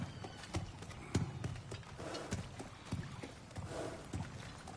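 Horse hooves clip-clop at an easy walk in God of War Ragnarök, a quiet, irregular string of soft thuds under a low ambient bed.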